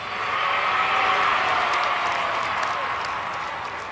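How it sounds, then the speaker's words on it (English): Crowds lining the streets to greet the Queen, a steady broad wash of applause and cheering that holds loud and continuous throughout, with a faint voice mixed in. "you see that in the reaction of the crowds lining the streets"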